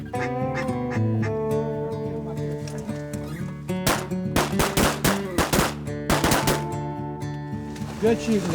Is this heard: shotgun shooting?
yes